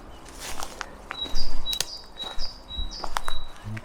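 A chiffchaff sings in Suffolk woodland near Stowmarket, its thin high notes repeating in short bursts at a moderate distance, while footsteps crunch and patter close by along the path.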